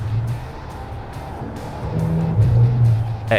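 A Fiat Pulse Abarth engine revs up in sport mode, a steady car drone that swells louder toward the end as the throttle opens, heard from inside the car with no talk.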